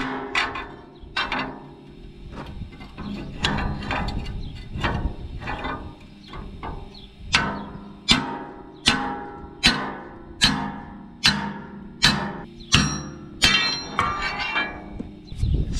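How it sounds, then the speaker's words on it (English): A sledgehammer drives out the main pin of a hydraulic excavator thumb with sharp metallic blows. A few irregular knocks come first, then about a dozen evenly spaced, ringing strikes follow close by in a steady rhythm. "I guess I'll go grab the digging bar and the sledge and try to get in from the back."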